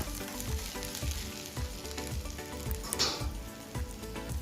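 Dried red chili, chopped ginger and garlic sizzling in a spoon or two of oil in a kadai, a steady close frying hiss with light rhythmic stirring scrapes, no talking.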